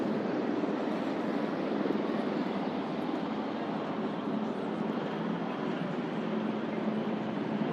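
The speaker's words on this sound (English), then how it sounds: "Seeing the Chinook there, those workhorses of the air, with the Union flag flying on the rear rotor tail." Chinook helicopters fly past during the Trooping the Colour birthday flypast, giving a steady, broad rotor and engine roar that holds at an even level throughout, with no talk over it.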